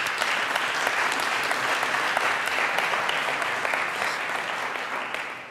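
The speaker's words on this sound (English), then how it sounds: "But for now, a big round of applause." Steady applause from a sizable audience at a gastronomy talk in Amsterdam, dense and sustained, tapering slightly toward the end with no talking over it.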